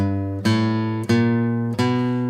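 A flatpicked acoustic guitar plays a one-measure G walk leading to C, three ringing picked notes spaced evenly apart, close and clear with no talking.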